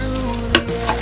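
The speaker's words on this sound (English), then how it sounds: "Then stir this together." Yam porridge with onions, curry leaves and scent leaves being stirred in a pot, a steady bubbling sizzle with a brief scraping stir near the middle and no talk.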